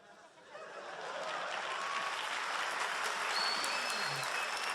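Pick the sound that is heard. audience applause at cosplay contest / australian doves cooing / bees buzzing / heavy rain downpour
audience applause at cosplay contest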